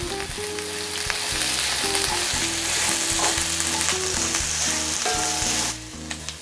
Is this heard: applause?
no